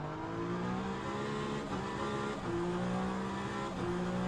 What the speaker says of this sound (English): I turned on the engine.